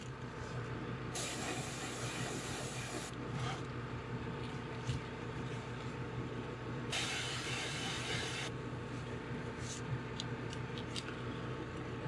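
Airbrush spraying paint onto a custom threadfin-style fishing lure, two long steady hissing bursts of air and paint against a constant background hum, close and fairly loud.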